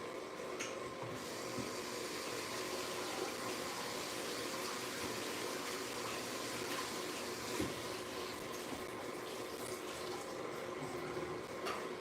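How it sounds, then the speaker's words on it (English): Tap water runs steadily over parsley being rinsed at a kitchen sink, a soft continuous hiss and splash at moderate distance with a few faint clinks and no talk. "we'll do a rinse of the parsley"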